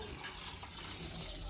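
Water running steadily into a container to soak rice for white pulao, a continuous splashing gush heard close up and fairly quiet, with no clear voices.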